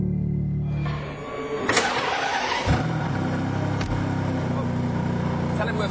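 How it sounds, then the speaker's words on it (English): A Ferrari's 6-litre V12 fires up and revs, with a deep steady engine drone, a surge and a crank-like burst midway, then it settles back into a loud idle heard from inside the car, with talking over it. "Big start button to fire up that 6-litre V12, which I can see in the rear view mirror."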